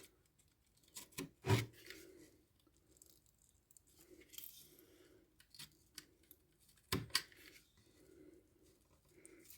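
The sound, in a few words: cutting begonia plant for propagation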